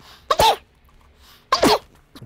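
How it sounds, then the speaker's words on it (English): Two sneezes from a woman tending hoya wax plants indoors, each a sharp close burst with an indrawn breath before it, about a second apart with quiet between. "I'm gonna sneeze."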